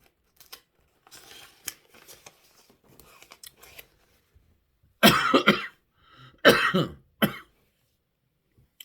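A lecturer with a persistent cough clears his throat and coughs during a Bible teaching session, with scattered small throat noises followed by two loud, harsh coughing fits and a final short cough, close to the microphone.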